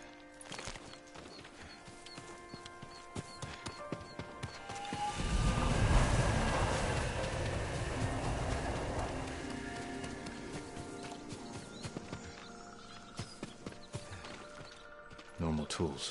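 A farm horse's hooves clip-clop at a steady walking pace in Ghost of Tsushima, moderately close, with a wind-like rush swelling in the middle and a few sharper taps toward the end.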